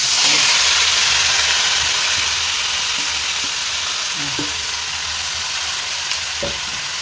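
Marinated chicken dropped into a hot wok sets off a loud, dense hiss of frying that fades slightly over several seconds, with a few faint clinks near the end and no speech.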